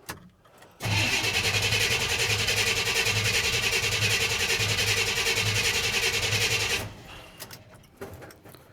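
A 1986 Chevrolet C10 pickup with a new fuel system cranks with a loud, pulsing starter whir for about six seconds, close by, then cuts off into quiet shuffling.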